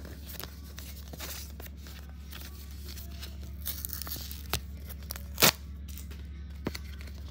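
Paper tearing as a mail package of Yu-Gi-Oh cards is opened, close crinkly rips and rustles building to one loud sharp tear near the end.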